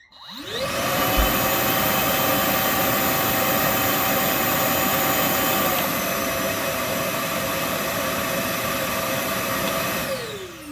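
A Milwaukee M18 FUEL 9-gallon cordless dual-battery wet/dry shop vacuum runs at top speed, spinning up into a loud, steady high-pitched whine with airy rush, holding for several seconds before winding down.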